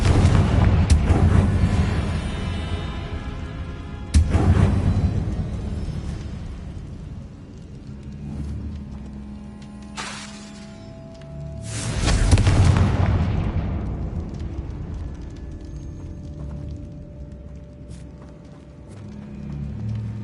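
Confringo blasting spells in Hogwarts Legacy go off as loud booming explosions, with big blasts near the start and in the middle, each fading into rumbling debris and lighter impacts.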